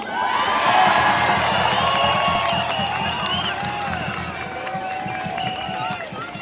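A large rally crowd in Melbourne cheers and whoops loudly and continuously, a dense wall of voices with shouting and scattered clapping, steady throughout and slowly easing.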